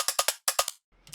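A classic drum break pitched up seven semitones and played in one-shot mode as top-end percussion in Ableton Live: two quick bursts of three or four crisp, bright hits each, a short gap, then a faint scrap of noisy percussion.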